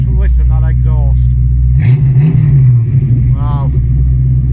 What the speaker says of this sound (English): Oh, listen, just listen that exhaust.